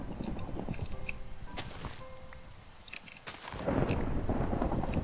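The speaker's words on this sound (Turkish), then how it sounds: "şimşek çakma ya" Thunder crashes and a steady hiss of rain in a Minecraft one-block horror mod, with sharp broadband cracks followed by rolling rumble and a louder surge of downpour at the end; no one speaks.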